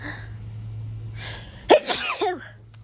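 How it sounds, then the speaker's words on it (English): A single sharp sneeze bursts out loudly after a quiet stretch, followed by a brief trailing breathy sound. "I have to sneeze."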